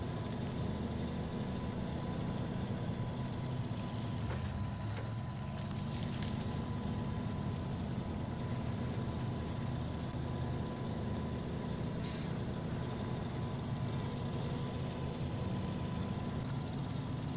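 Heavy truck in the SnowRunner video game pushing through mud and brush, a steady loud engine drone with low rumble throughout and a brief hiss near the end, no talk.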